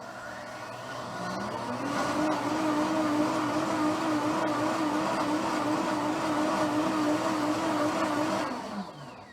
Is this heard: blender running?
yes